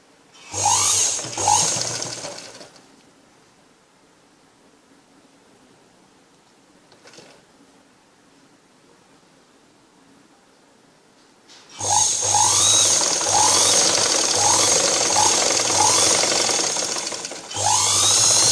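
A sewing machine stitches a blouse in two loud, close bursts: a short run of rapid mechanical whirring, a long quiet pause, then a sustained stretch of steady stitching to the end.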